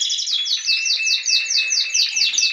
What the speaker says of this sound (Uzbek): Bu hozir kanareykalar sayrayapti